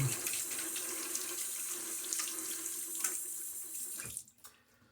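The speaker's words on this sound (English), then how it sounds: "Let me rinse off my hands if I can." Tap water running steadily into a sink as hands are rinsed beneath it, a close hissing splash that stops abruptly near the end, with no talking.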